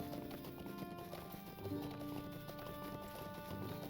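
Galloping hooves of a stable master's horse in Lord of the Rings Online, a steady rhythmic clip-clop running over a dense bed of game music and ambience, moderately loud throughout.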